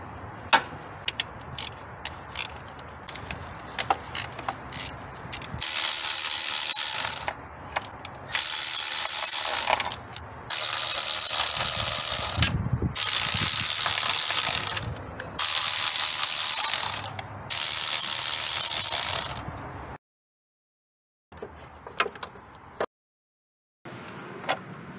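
A ratchet wrench loosening a part on the engine of a 2016 Honda CR-V during valve cover gasket work, with rapid close clicking in several long bursts separated by short pauses, then softer handling noises.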